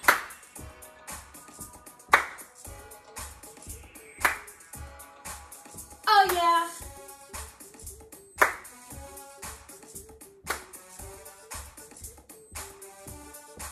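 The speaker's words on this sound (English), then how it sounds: "We're going to add a clap on the tap." Rhythmic hand claps keep time during an indoor walking workout, sharp claps every couple of seconds riding over steady upbeat background music.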